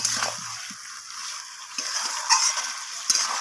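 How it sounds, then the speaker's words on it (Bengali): A spoon scrapes and stirs chicken gizzard and liver curry in a pan just after green chillies go in, with soft, irregular scraping and a faint sizzle, close up and with no talk. "কাঁচা লঙ্কাটা দিয়ে আবারও আমি মিশিয়ে নেব"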